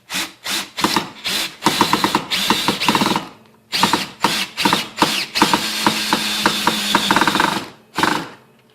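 A Ryobi 18V One Plus cordless drill driver drives a flathead screw into wood without a pilot hole, in a run of short whirring bursts and stuttering ratchety grinding, loud and close, with pauses between pulls of the trigger.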